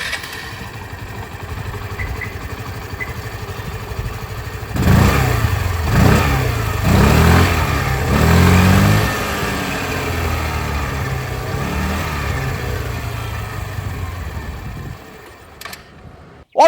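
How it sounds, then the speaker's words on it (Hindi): A 2025 Hero Destini 125 Xtec scooter, a 125cc commuter, idles quietly, then its exhaust rises through several short throttle blips and revs before settling back and cutting off, heard up close. "इसके एग्जॉस्ट साउंड भी सुन लीजिए।"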